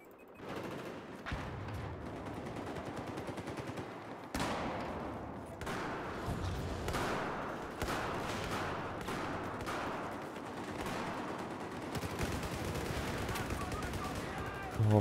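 Machine gun and rifle fire in a Battlefield 4 multiplayer match, dense rapid bursts running almost continuously for the whole stretch, loud and close with brief gaps, in game combat.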